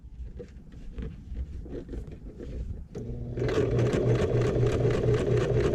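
A sewing machine stitches a shoulder bag seam, starting with slow, uneven bursts of stitching and then running in a fast, steady whir of rapid needle strokes, close and loud.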